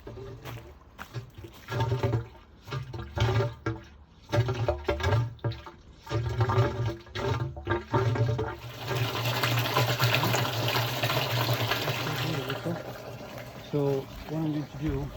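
Water rushes and splashes steadily as it fills a pond filter, with a broad hissing flow building louder partway through and clunks of handling around it.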